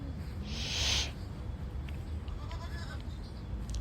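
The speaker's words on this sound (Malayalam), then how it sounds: "This is got." A goat on a farm lets out one loud, close bleat early on, then the barnyard settles into a quiet, low background murmur.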